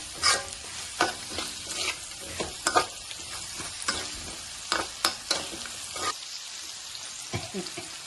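Spices frying in oil for a drumstick and moong dal dish, with a soft sizzle under frequent sharp stirring scrapes and spoon knocks against the pan, close by.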